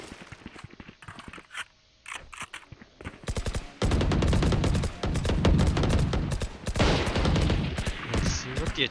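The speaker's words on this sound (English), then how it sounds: "Attackers just firing gunshots all across the map." Dense gunfire in a Valorant tournament match, with rapid automatic bursts and single shots across the map. It starts sparse and becomes loud and continuous, with short pauses between volleys.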